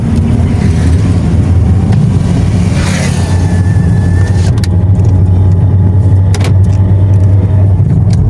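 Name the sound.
trucks speeding on the highway at night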